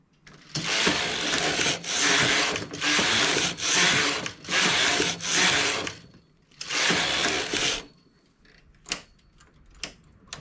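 A knitting machine carriage knitting rows for a zigzag vest, heard as a run of loud, rasping mechanical sweeps back and forth with short pauses between, ending in a few lighter clicks.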